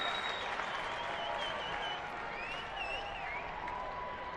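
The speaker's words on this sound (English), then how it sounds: "now the crowd really getting into it" A baseball crowd at an Astros–Pirates game in Pittsburgh cheers and applauds in a sustained, loud wash of noise, with faint whistles and shouts rising through it.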